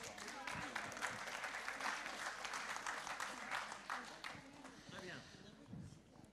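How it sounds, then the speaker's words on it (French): Applause from an audience at a regional health-care users' rights day, dense steady clapping running throughout, with voices underneath. "Et on peut les applaudir."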